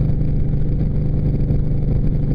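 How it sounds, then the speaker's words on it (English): A Yamaha 950 motorcycle fitted with a Rush slip-on exhaust, lacking a fuel management system, idles nearby with a loud, deep, steady engine throb. "It's really loud. I do have to get a fuel management system installed. Getting some backfiring when I decelerate."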